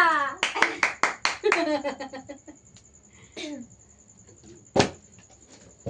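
A quick run of sharp hand claps rings out close by for about a second, then gives way to scattered softer taps, with a voice and a thin steady high tone in the background.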